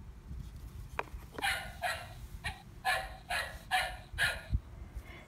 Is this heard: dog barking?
yes